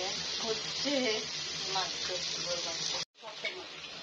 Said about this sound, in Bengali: চিংড়ি মাছ লাইট ফ্রাই করা হচ্ছে